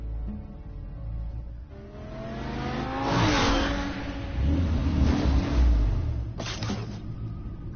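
Engine of a car in Batman: The Telltale Series, a smooth rising hum and whir that swells and revs across several seconds, close and steady with no voices.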